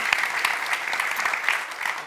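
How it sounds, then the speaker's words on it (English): An audience claps steadily, a dense round of applause from a crowd at moderate distance, with no talking over it. "let's just give them a round of applause."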